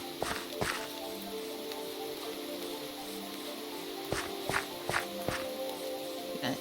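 Rain in the Minecraft video game, a steady soft hiss of falling drops with a low hum beneath, broken by several crisp ticks and footstep-like taps, fairly quiet throughout.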